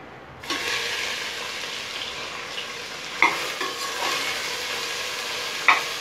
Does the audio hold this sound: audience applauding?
no